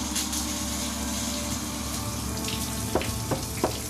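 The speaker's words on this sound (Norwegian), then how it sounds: "Hallo, jeg er i dusjen" A shower runs in a steady, continuous rush of water in a cartoon bathroom, with a few faint knocks or thuds toward the end.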